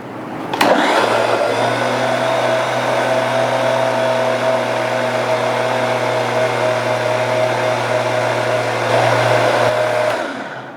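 Electric blender running continuously while pureeing pumpkin and avocado into a tom yum–style shiitake salad dressing, a loud steady motor whir with a strong low hum lasting about ten seconds before cutting off.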